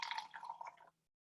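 Water trickles from a plastic water bottle into a mix of paint and soap, a short, faint splashing pour close up that stops abruptly.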